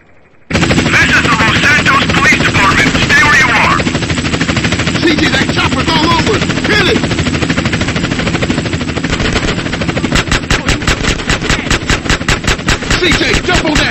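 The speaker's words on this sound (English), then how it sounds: "We are taking ground fire." GTA San Andreas gameplay: rapid machine-gun bursts fire almost nonstop over a helicopter's rotor drone, loud and close, with tight rhythmic volleys near the end and voices briefly heard in the mix.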